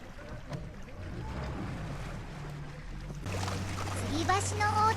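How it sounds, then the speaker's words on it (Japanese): A motorboat tows a river tour boat on a dam-slowed stretch of the Kinugawa River, its engine drone rising into a steady low hum over water wash, with a voice speaking over it. "ダムに近くなると川の流れがなくなるのでモーターボートに牽引してもらいます。"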